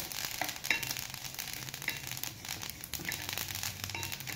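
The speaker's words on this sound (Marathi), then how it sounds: "बघा कसा आवाज यायला लागला आहे असा चट चट चट चट चट चट" Sesame seeds roast dry in a pan for til karanji filling, giving a faint, irregular scatter of tiny crackles and pops over a soft, steady background, with no voices.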